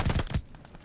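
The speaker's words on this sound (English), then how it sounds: "he's going to win the gunfight" Gunfire from a fast round of rapid shots in a competitive video game match, three loud bursts packed into the first half second, followed by fainter scattered game noise.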